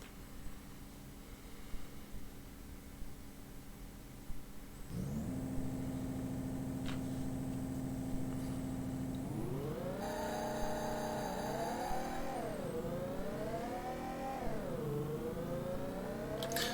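A synthesized car engine from the Amiga racing game Crazy Cars III idles low, then revs up in rising and falling pitch sweeps as the car accelerates through gears, steady and fairly loud, no talk.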